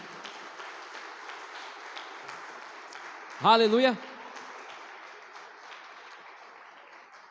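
A church congregation applauds during a Sunday service, a continuous spread of clapping across the room, with a voice shouting out loudly over it about halfway through.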